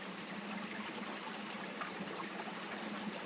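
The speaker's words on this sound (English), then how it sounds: "I see a little bit of water running right there, but it's a very interesting, hollow sounding" A small brook running beneath rocks on a hiking trail, giving a hollow, steady trickling and gurgling wash of water heard close and moderately quiet, with no voices.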